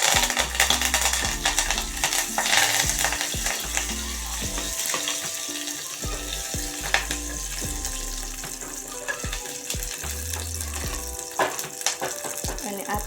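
Ginger garlic paste and curry leaves spit and sizzle in a hot pan, a busy close frying crackle with clinks and clatter of utensils throughout.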